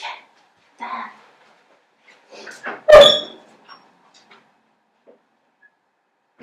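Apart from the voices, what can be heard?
dog noises in the room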